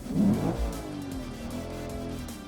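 A Lexus IS500's engine revs up sharply in Sport Plus mode, then settles into a steady, throaty idle that drones on close by.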